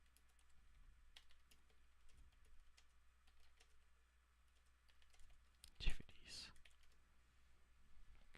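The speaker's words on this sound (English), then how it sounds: "That would be typing" Faint typing on a computer keyboard, soft scattered clicks and taps in a quiet room, with a brief louder knock and some low murmuring near the middle.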